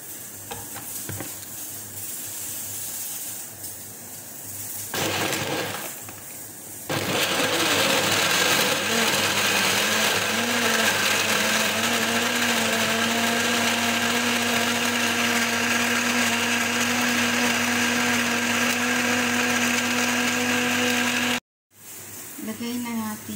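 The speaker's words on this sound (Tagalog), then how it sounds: "i-blend na natin siya." A kitchen blender whirs loudly and steadily as it purées orange and apple with sugar. A softer start gives way to a brief pause, then a sustained full-power grind for about fourteen seconds before it cuts off abruptly.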